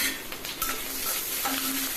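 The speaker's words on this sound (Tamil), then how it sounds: "இப்போ கொஞ்சம் வதக்குங்க" Ginger and chillies being stirred in a hot pan, with a soft steady sizzle and occasional scraping of a spatula.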